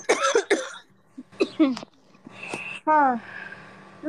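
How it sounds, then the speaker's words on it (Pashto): Several harsh, close coughs burst out in short clusters, separated by brief pauses, with a faint steady hum underneath. "ته ټوخېږي"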